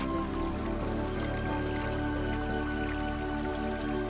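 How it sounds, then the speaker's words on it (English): A babbling brook runs beside a forested trail near Mount Ogden, giving a steady, close, unbroken wash of rushing and trickling water with no voices over it. "There's a babbling brook beside us."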